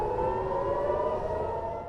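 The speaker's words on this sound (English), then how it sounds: "Alarms sounded across Israel and sent people scrambling for shelter." An air raid siren wails across Israel during a ballistic missile attack, a steady, sustained loud tone that holds throughout without pause, with no voices.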